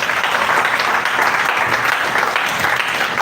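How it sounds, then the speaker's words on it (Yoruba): A church congregation claps their hands for Jesus, a loud, dense and sustained round of applause from many people filling the whole stretch. "Pàtẹ́wọ́ rẹ fún Jésù."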